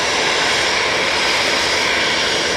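EasyJet jet airliner passing at Manchester Airport, a loud, steady broadband engine roar that holds constant throughout without any break.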